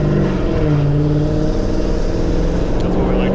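A 426 Hemi stroker engine with a performance cam in a Dodge Challenger roars loudly and close in a steady, heavy drone, with the pitch holding nearly level throughout.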